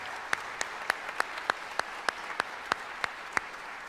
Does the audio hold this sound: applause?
yes